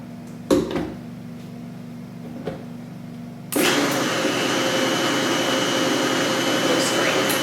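A blender mixing a chicken noodle soup chip mixture starts after a few knocks and bumps, then runs as a loud, steady whirring drone to the end.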